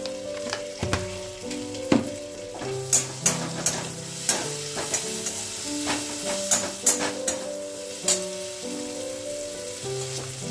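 Ground coriander, cumin and Kashmiri chili powder fry in a pan for a light pabda fish curry, a constant close sizzle broken by frequent sharp spatula scrapes and knocks against the metal, with faint steady tones underneath.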